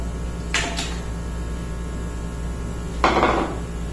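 Three eggs cracked into a blender for a creamy chicken pie batter: two short taps and cracks, then another crack a few seconds later, close and fairly quiet.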